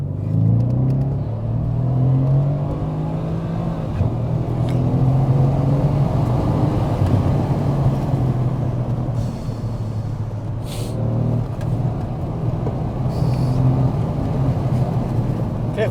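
A Mercedes C63 AMG gives a deep, continuous engine rumble with the revs rising and falling as it accelerates and brakes, loud and close throughout.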